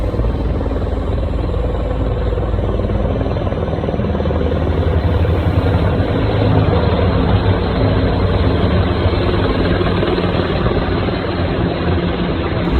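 Steady, loud rotor and engine roar of three low-flying United States military helicopters, a dense continuous drone filling the whole clip with no voices.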